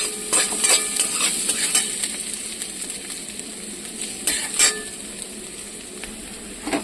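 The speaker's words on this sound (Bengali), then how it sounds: "এবার আমি দিয়ে দেবো রসুন কুচি আর আদা কুচি। রসুন কুচি আর আদা কুচিটা দিয়ে দিলাম।" Chopped garlic and ginger frying with browned onions in a pan, a steady sizzle with scraping spoon strokes and a couple of sharper clatters, close and alone with no voices.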